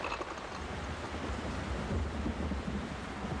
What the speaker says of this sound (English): A torrential downpour on a city has the effect of giving it a shower.